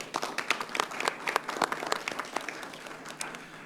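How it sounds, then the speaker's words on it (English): A city council meeting audience gives a round of applause: distinct, sharp claps from a modest crowd in a chamber, clearly separated and uneven in rhythm, tapering slightly toward the end with no speech over them. "That was worth a round of applause for sure."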